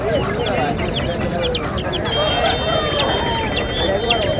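A country hen with her chicks at a weekly village market in Bhogapuram, Vizianagaram, clucks amid the chirping of chicks, under the constant murmur of a busy crowd.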